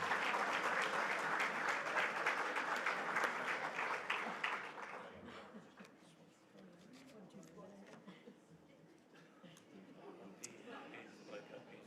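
Audience applause for award recipients at a community sports awards evening, a steady wash of clapping for about five seconds that fades to scattered claps under a quiet room murmur.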